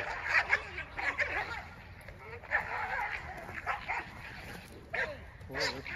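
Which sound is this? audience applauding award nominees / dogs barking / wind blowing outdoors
dogs barking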